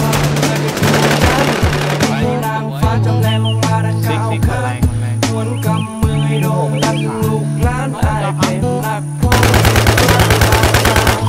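Rapid machine-gun bursts from the Infestation video game, loud and rhythmic, firing in repeated rattling streams with brief gaps and a heavier burst near the end.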